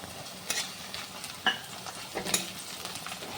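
Chopped onions and slit green chillies frying in white oil, a steady soft sizzle with a few sharp stirring scrapes of the spatula, close and fairly quiet, no voices.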